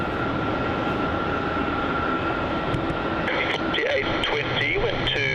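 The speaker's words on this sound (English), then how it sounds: "we'll wait for this Singapore departure. Here it comes, rolling down." A Singapore Airlines jet rolls down runway 27 at Melbourne Airport for takeoff, a steady broadband engine roar that holds throughout, with radio chatter and voices layered over it.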